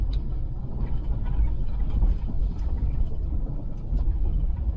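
A vehicle cruises along a highway after its brakes and engine have cooled, giving a steady low road rumble and engine drone that stays continuous and fairly loud throughout, with no voices.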